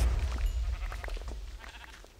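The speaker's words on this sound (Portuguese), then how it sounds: "Sai, ovelha!" Sheep bleat in the Minecraft video game, several short bleats heard close over a low rumble of game noise.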